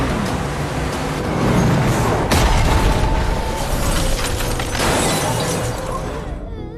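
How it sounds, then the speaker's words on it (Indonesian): Film car crash as a truck rams a car: loud roaring road noise with sharp impact bursts and crunching, shattering hits, dense and close throughout. "Tiba-tiba mobil Oji ditabrak truk tepat di depan mereka."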